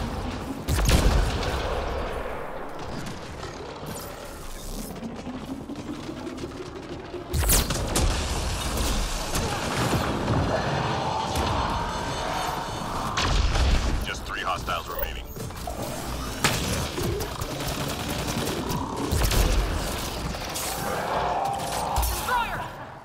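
Combat in the video game Mass Effect Andromeda with gunfire against turrets, bursts of shots and heavy booms scattered over a long stretch, a voice talking through it.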